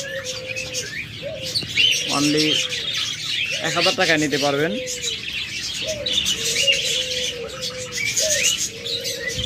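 Caged pet birds at a bird shop, including budgerigars, cockatiels, lovebirds and diamond doves, chirp and coo busily nearby, with sharp tweets and warbling calls under a voice talking throughout.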